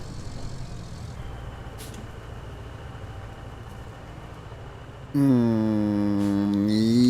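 Truck engine in the off-road video game Roadcraft, a low steady drone for five seconds that then jumps into a louder, rising rev with strong harmonic whine as the truck pushes forward.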